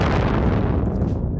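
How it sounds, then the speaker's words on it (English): Layered stereo explosion effects for an anime punch, heard as a loud, dense, rumbling boom that keeps churning at full level for the whole stretch, with no voices. "we got stereo explosions. These are huge."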